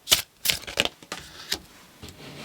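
Tarot cards being shuffled by hand, a series of crisp riffling and snapping bursts close up, several quick flurries in a row with brief pauses between them.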